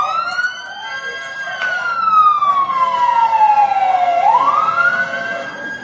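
A loud fire truck siren wails nearby at a house fire, its pitch sliding slowly down then sweeping back up, over a low engine rumble.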